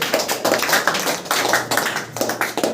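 An audience applauds to welcome a student at an interview event, with dense, loud, steady clapping from many hands throughout.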